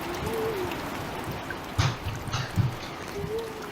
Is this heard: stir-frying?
no